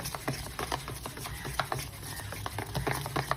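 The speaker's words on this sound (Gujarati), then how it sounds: "એક સાઈડ આપણે મિક્સ કરતું રહેવાનું છે સરસ રીતે, એટલે આંચકો પણ આવી જાય અને આમ ખીરું પણ સરસ રીતે થઈ જાય।" Coriander and semolina dhokla batter is mixed in a bowl, a quick steady run of soft scraping, clicking stirs close to the microphone, quiet and continuous, with no speech.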